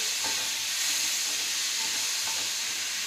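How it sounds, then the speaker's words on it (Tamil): Tomato, onion and green chili sautéing in hot oil for a Tamil okra mandi, giving a steady close sizzle with faint stirring scrapes throughout, no voices. "தக்காளி ஒரு ரெண்டு நிமிஷம் நல்லா வதங்கட்டும்"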